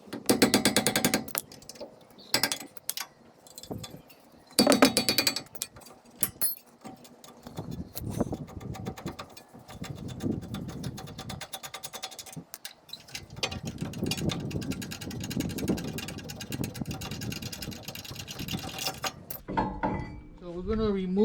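A ratchet works on the brake caliper bolts of a 2010 Toyota Tacoma, giving bursts of quick metallic clicking, faint and close, separated by pauses and clinks of handled tools.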